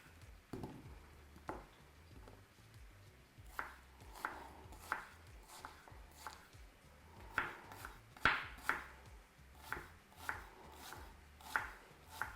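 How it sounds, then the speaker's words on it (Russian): A knife finely chops onion on a board in a steady run of sharp, close taps, rhythmic and fairly quiet, with no talking. "Лук нужно мелко нарезать."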